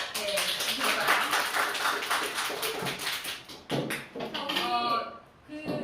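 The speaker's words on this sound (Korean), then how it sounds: "박수로 한번" Applause from an audience at a corporate customer-service training bootcamp session, a dense patter of clapping hands that fades out near the end, with voices and chatter mixed in.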